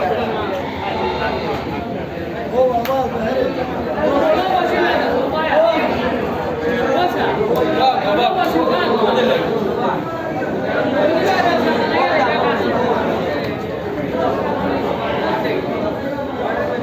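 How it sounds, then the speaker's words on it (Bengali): A crowded livestock market at Kazir Bazar, where goats and cattle are being traded: a dense, steady murmur of many voices and chatter continues throughout at an even, fairly loud level. "হাজির বাজারে ছাগলের বাজার।"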